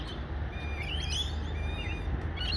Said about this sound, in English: Only the bird.